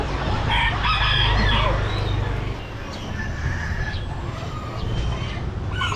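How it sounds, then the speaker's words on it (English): A very small rooster crows in a short, strained call close by, followed by quieter clucks and chirps in a lively animal-market setting with soft background noise. "He's the smallest little rooster."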